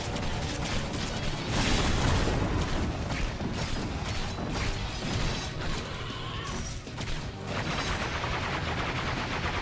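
Dense gunfire and crashing combat from the Orcs Must Die! video game, continuous and loud throughout with mechanical clatter and impacts, no voices.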